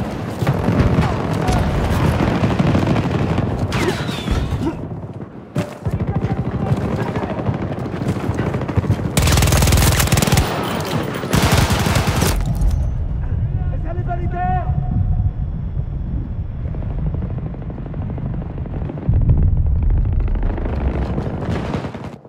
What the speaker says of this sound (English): Take this, keep shooting!